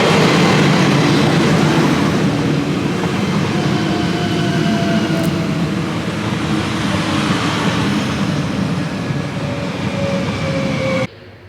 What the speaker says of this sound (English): We're headed back on the train now